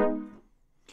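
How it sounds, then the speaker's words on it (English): FM pad patch played on a Yamaha YC keyboard, a single harmonically rich tone that decays over about half a second into silence, followed by a faint click. "So the FM pad used to sound like this."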